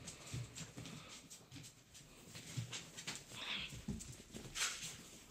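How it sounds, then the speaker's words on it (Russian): Several puppies whimpering with soft, scattered high whines over shuffling and patter from moving about, fairly faint and close, with no talking. "Друзья, вы видели, сколько у нас щенков?"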